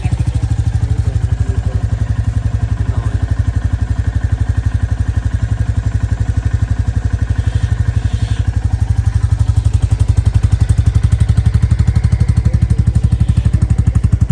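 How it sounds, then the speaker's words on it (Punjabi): A new Bullet, a heavy single-cylinder motorcycle, idles loudly nearby, its rapid, even thumping beat steady throughout with a brief rev toward the end. "ਸਟਾਰਟ ਕਰਕੇ ਇੱਕ ਰਾਂ ਵਿਖਾ ਦਿਓ ਬਾਕੀ ਬੁਲਟ ਜੇ ਨਵਾਂ ਹੀ ਆ"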